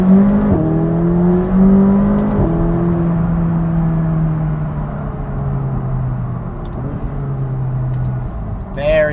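A 2017 McLaren 570GT accelerating hard from inside the cabin, engine tone climbing and dropping through quick gear shifts, loud and sustained, with a person talking over it.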